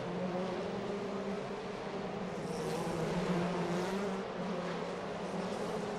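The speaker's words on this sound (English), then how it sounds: "These V8 machines roar around the streets of Shanghai." V8 Mercedes touring cars from the 2004 DTM race in Shanghai roar steadily through city streets, a continuous loud engine drone with a brief swell as cars pass, echoing off surrounding buildings.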